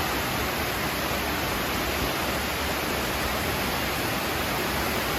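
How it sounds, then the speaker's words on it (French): Cascade de la Fouge, a waterfall, pours in a constant broad rushing roar, loud and unbroken throughout. "Voilà, donc la fameuse cascade qui m'a fait souffrir la semaine dernière."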